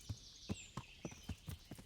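Horse hooves clip-clop at a steady walking rhythm in the medieval game Kingdom Come Deliverance, about eight close, distinct hoofbeats against a faint airy background, with no talk.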